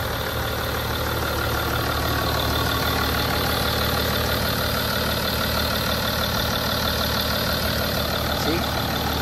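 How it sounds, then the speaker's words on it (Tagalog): A BMW X5 xDrive 3.0 diesel engine idling, a steady, dense low rumble with a faint clatter, heard up close and continuous throughout. "Pakinggan yung makina, idol, oh."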